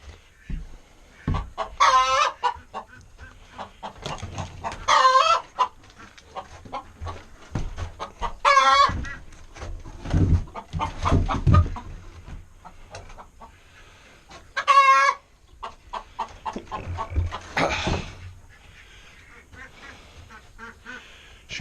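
Hens cluck inside a chicken coop in loud, close, irregular bursts of clucks and squawks separated by short pauses.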